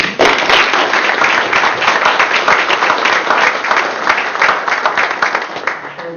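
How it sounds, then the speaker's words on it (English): Sustained applause from the audience at a tribal council meeting, many hands clapping steadily and fairly loud for about six seconds, with a few stray voices mixed in. "Let's give Mr. McLemore a round of applause."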